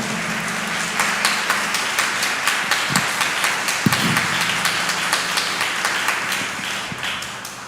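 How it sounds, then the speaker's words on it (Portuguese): A church congregation applauds after a Bible reading at a Catholic charismatic service, steady dense clapping filling the room with a few sharper individual claps and brief low voices mixed in. "vamos aplaudir a palavra de Deus?"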